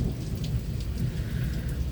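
Heavy rain pours steadily during a Michigan thunderstorm, a dense close roar with low thunder rumbling underneath throughout, no voices.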